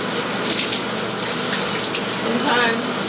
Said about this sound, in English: I'm getting water all over the floor.